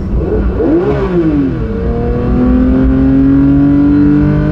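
A Porsche 992 GT3 revs hard toward 9000 RPM, its engine note climbing in pitch after a brief dip, then settling into a loud, sustained high-pitched wail, recorded from inside the car.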